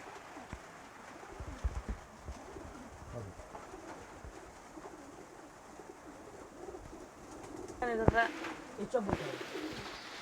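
Pigeons at a pigeon farm coo softly amid background murmur and distant voices, with a clearer nearby call close to the end.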